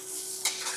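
Vegetables frying in a pan, including bitter gourd and greens, give a brief, soft sizzle with a quick stirring scrape midway, heard alone at close range.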